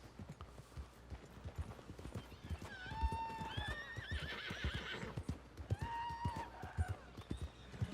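A horse in the video game Red Dead Redemption 2 clip-clops along in a steady hoofbeat rhythm and lets out several loud, shrill neighs and whinnies, close and clear, with a faint voice in the background.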